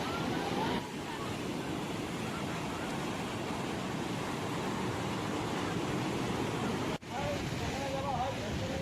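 Continuous surf from high-tide waves on Digha beach rolls on as an even, wind-blown roar, interrupted by one abrupt dropout near the end.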